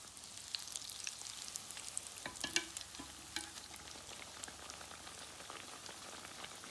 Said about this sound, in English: Frying donuts about 2 minutes or so per side before you turn them over.